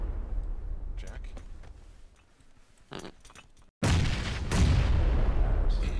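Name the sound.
frag grenades exploding in the PUBG video game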